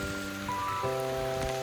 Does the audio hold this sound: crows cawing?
no